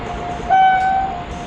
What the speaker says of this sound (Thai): รถไฟมาแล้วเฮ้ย